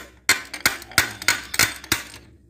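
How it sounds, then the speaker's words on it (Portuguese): Seven or eight sharp metallic hammer taps in a steady rhythm, close and ringing, striking the starter motor of a Yamaha MT R3 motorcycle. "dá uma pancadinha no motor de partida"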